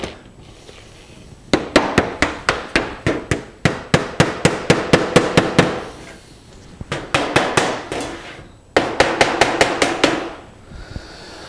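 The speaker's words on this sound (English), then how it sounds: "we'll put the small nails in these holes to get that securely in place" Small nails are hammered into a wooden beehive telescoping lid in three quick bursts of sharp, close, rhythmic taps, with short pauses between the bursts.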